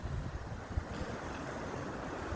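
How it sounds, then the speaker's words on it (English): Waves splash steadily against a waterfront after Hurricane Sally in 2020, a continuous wash of surf with gusty wind buffeting the microphone. "some nice wave splashing there"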